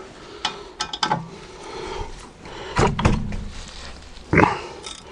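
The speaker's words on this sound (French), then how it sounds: "avec un cliquet et une douille longue" A ratchet with a long socket worked on drum brakes, scattered metallic clicks and clunks with a few heavier knocks, close and irregular, in a quiet workshop.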